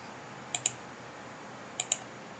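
Computer mouse clicks while drafting a floor plan in Autodesk Revit 2024, two quick pairs of crisp, close clicks over a steady low room hiss.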